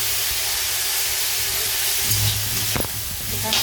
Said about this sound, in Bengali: এখানটায় বেগুন শাক ভাজা করছি